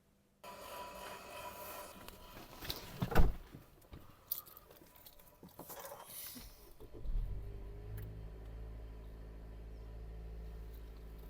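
Inside a moving car, close rustling and knocks of handling come first, then a steady low cabin rumble of the car driving settles in and continues to the end, with no talking.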